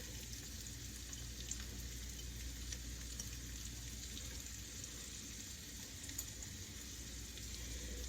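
Vegetables frying in a pan give a faint, steady sizzle, quiet and continuous with small crackles throughout.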